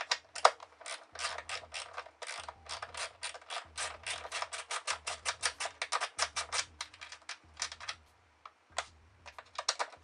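A ratchet fitted with a 15mm socket backs out transmission mount bolts, producing long runs of rapid, close clicking broken by brief pauses, with a faint low thump recurring under each run.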